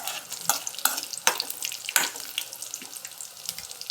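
Grated carrot fries in ghee for carrot halwa while a spoon stirs it, a soft close sizzle broken by repeated scraping strokes against the pan.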